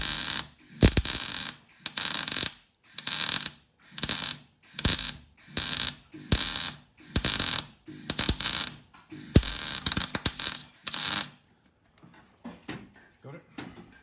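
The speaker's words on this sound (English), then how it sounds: "I'll weld it through now" Welding on a Ford Cortina Mk5 subframe, heard as loud bursts of crackling, sputtering arc lasting about a second each and repeating in a steady on-off rhythm, close by, before stopping into quiet.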